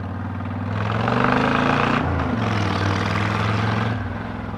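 A 2007 Honda VTX 1300 motorcycle's V-twin engine drones steadily while riding on the road, a loud low throb with wind rush that swells briefly, dips around the middle, then settles back to a constant cruise.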